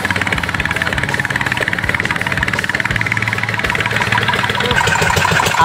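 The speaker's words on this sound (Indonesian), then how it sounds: "Kapal kami melaju kencang dan akan membawa kami ke tengah lautan." Small fishing boat engine at sea running hard with a steady, rapid chugging pulse, loud and close, continuous without talk.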